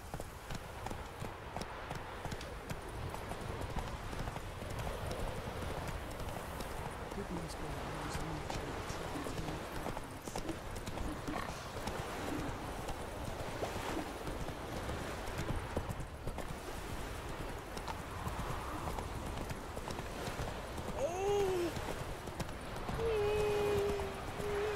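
Hooves of Roach, the horse in The Witcher 3, drumming in a continuous galloping rhythm under a bed of game ambience, with a voice speaking at times and a short tonal call near the end.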